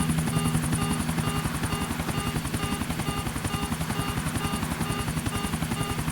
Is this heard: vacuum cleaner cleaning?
no